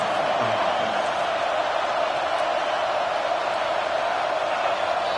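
A stadium crowd at a college football game roars in a loud, unbroken wall of noise, steady and sustained throughout with no pause.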